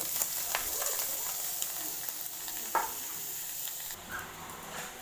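Grated carrot and beetroot sizzling in a wok with ginger and green chili, a steady hissing fry with occasional scraping stirs, fairly quiet and close, with no talking.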